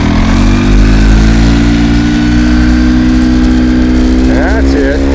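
A Jeep Rubicon engine revs and strains while driving out of snow, a loud sustained rumble with rising engine tones, while voices talk over it.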